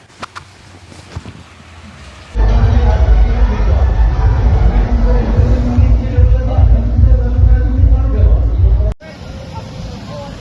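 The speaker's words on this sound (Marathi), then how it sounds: "कामगार एकजुटीचा विजय असो जय हिंद जय महाराष्ट्र या घोषणा देऊन सी आय ऑटोमेटिव्ह इंडियाली कंपनीमध्ये जल्लोष साजरा झाला" Workers at CI Automotive India in Chakan, Pune, celebrate as a crowd, a loud dense roar of voices and chanting that starts suddenly and continues for several seconds, after a quieter stretch of talk.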